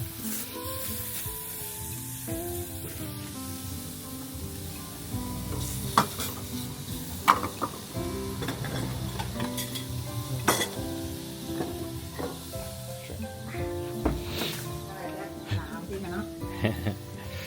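Steady sizzling of meat on a hot grill pan with scraping and clinking utensils, voices talking over it throughout.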